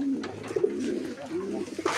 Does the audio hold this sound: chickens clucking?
no